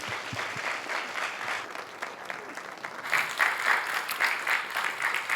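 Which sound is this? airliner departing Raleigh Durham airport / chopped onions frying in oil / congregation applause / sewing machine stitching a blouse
congregation applause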